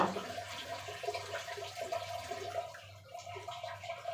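Pieces of rohu fish are rinsed in water in a bowl, giving a continuous close splashing and sloshing with no voices.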